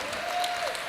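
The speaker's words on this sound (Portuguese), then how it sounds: "Então, uma salva de palmas para o nosso convidado, Cláudio Nascimento." Audience applause for a guest speaker at a sustainable development and experiential tourism talk event, a steady dense wash of clapping filling the whole short moment with no voices over it.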